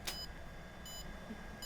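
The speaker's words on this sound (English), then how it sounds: "Goggles will beep" FPV drone goggles binding to a Skylite 3-inch drone emit three short electronic beeps at an even interval, quiet against a steady background hiss.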